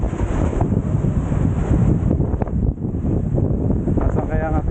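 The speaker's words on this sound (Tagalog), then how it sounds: "Mahangin. Kasi amihan." Strong amihan wind buffets the microphone outdoors, a loud, steady rumbling roar that runs throughout, with a voice speaking faintly beneath it.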